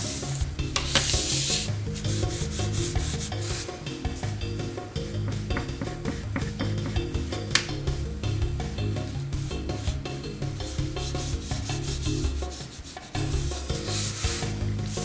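Chalk pastel rubbed onto paper with a scrap of denim to shade curved shadows on paper pottery, a steady close scratchy rubbing that continues throughout with brief pauses.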